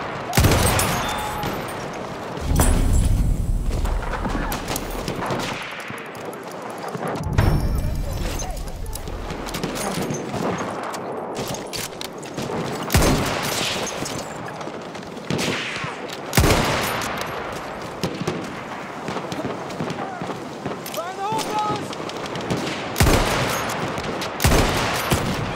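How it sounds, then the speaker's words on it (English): An enemy machine gun firing in the World War I shooter Battlefield 1, with repeated bursts and booms of battlefield gunfire scattered across a long stretch, mixed with in-game voice callouts. "That's an enemy machine gun."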